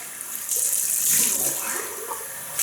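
Running water from a tap rinsing a Gillette Slim Twist safety razor, a steady close hiss and splash that swells briefly midway, with no talk over it.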